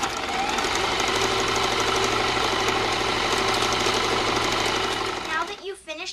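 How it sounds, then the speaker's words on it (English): A sewing machine stitching quilt pieces into rows runs in a fast, steady mechanical chatter for about five seconds, close and loud, then slows and stops with a few softer clicks. "Now I am sewing the pairs of 2 together to make rows."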